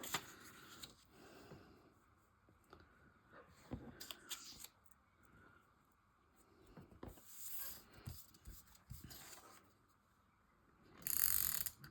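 A small sticker-making machine runs in irregular mechanical bursts, with ratcheting clicks, crank turns and paper shuffling, quiet pauses in between and a sharper rasp near the end.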